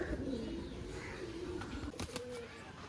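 Pigeons of fancy breeds such as tippler coo close by in soft, throaty rolling calls, with a short flutter or rustle near the end.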